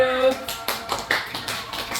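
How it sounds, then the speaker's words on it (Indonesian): Classroom group receives a round of applause: a few scattered, uneven claps and taps from a small audience, fairly close, with voices murmuring underneath. "Oke, tepuk tangan untuk kelompok yang maju."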